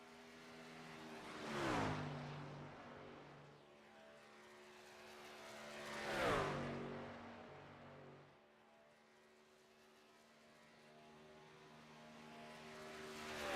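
Race trucks from an iRacing series finale at Charlotte roar past in two loud sweeping pass-bys, engines droning with rising and falling pitch, then a steadier distant drone as they continue lapping.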